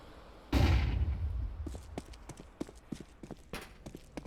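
Flashbang grenade in a video game: one sharp, loud burst that decays over about a second, followed by a scatter of quieter clicks and thumps.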